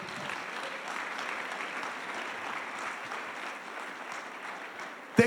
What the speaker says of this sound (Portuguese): E aplauda ao seu consolador.